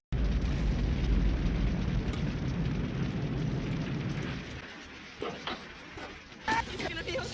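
A big special-effect explosion from the film Mac and Me starts as a heavy low roar and slowly fades over several seconds, leaving quieter debris and crackling sounds toward the end.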